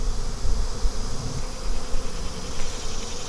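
A dense, steady buzz of many honeybees fills the space around an open hive of a starving colony during a nectar dearth, close and continuous with no voices.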